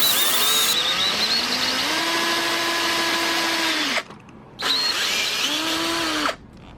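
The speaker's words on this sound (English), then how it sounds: "I had to drill it with a 2564 drill bit" A power drill whines steadily at high speed, drilling an aluminum sidestand part with a 25/64 bit, in two long bursts with a short pause between, close and loud.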